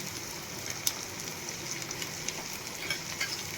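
Chopped onion and garlic frying in oil in a pan, a steady close sizzle with faint crackles and occasional spatter pops.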